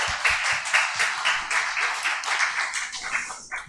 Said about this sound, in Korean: 우리 영광의 박수 올려드리겠습니다